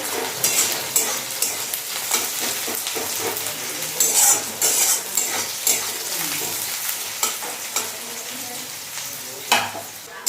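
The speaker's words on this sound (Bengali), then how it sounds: "তেলের মধ্যে পেঁয়াজ কুচি দিয়ে দিলাম পেঁয়াজগুলো একটু ভেজে নিই" Chopped onions fry in oil in a wok, a dense crackling sizzle broken up by frequent scrapes and clanks of a stirring spoon, close and fairly loud throughout.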